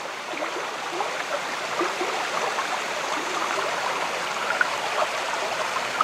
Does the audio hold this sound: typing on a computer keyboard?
no